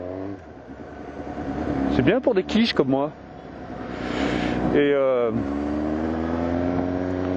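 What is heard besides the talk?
Suzuki GSX-S750 motorcycle engine revving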